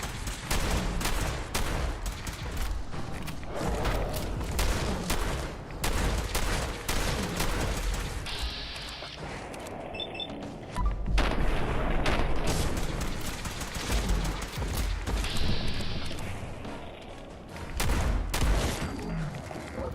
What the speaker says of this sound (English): Okay, let's pull out the shotgun.